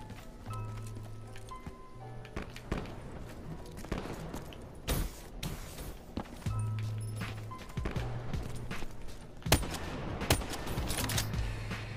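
DBSR gun firing in a video game, sharp shots cracking out in irregular bursts over a low steady game hum, with other gameplay clatter in between.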